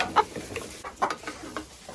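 Laying hens in an aviary enclosure give a few soft, scattered clucks at close range against a quiet background.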